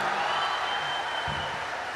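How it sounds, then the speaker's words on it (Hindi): Audience applause at a Hindi stand-up poetry show, a steady wash of clapping from a crowd that fills the whole moment at moderate volume with no talk over it. "बजाओ एक बार मिलके ताली साहब।"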